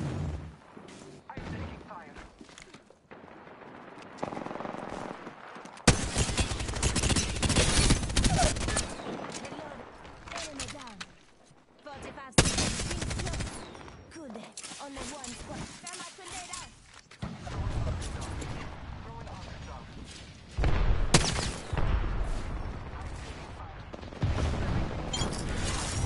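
Gunfire from the battle video game Apex Legends, with dense bursts of automatic weapon fire and loud volleys coming in waves, separated by brief quieter gaps, close and intense throughout.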